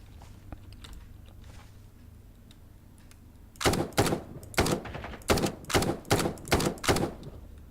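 Semi-automatic gunfire in the tactical shooter Ground Branch, about nine loud, evenly paced single shots in quick succession after a few quiet seconds of faint clicks and ambient hum, with no talking.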